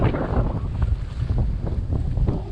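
A sailboat pounds through choppy water in strong wind on a passage near Grenada, Carriacou and Bequia, with heavy wind buffeting on the microphone and a constant low rumble of water against the hull.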